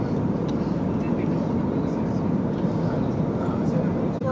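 Steady, enveloping engine and airflow roar fills an Air India airliner cabin in flight, approaching Mumbai, holding an even level throughout with no breaks.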